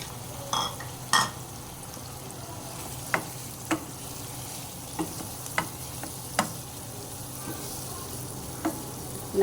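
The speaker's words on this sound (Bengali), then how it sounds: "নাড়া দিয়ে ঢেকে দিব।" Kachki fish curry with chopped tomatoes stirred in a pan, a soft steady sizzle beneath scattered sharp scrapes and clinks of the spoon against the pan, close and fairly quiet.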